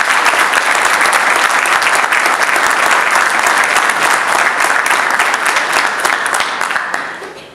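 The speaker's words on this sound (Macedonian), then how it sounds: "Аплауз за професор доктор Стефан Буџаковски" Sustained, dense applause from an audience at a university diploma ceremony in Strumica, loud and steady throughout before tapering off at the end.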